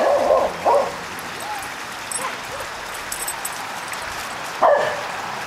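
Young dogs yipping and barking in short bursts with growly play noises and scuffling, close by, with quieter gaps between outbursts.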